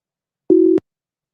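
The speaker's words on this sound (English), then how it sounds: "I don't like that ringing sound" A single short electronic telephone tone beeps once, loud and steady for about a third of a second, then stops abruptly.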